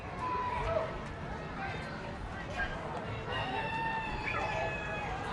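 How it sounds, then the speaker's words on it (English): Roosters crow on a farm near a tractor, several faint calls rising over a low rumbling engine and background noise, repeating at intervals. "What's that sound? I hear roosters."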